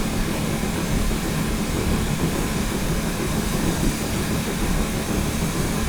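An L&YR Class 5 steam locomotive runs in a train-driving video game, giving a loud, steady, continuous rumbling roar with no distinct beats.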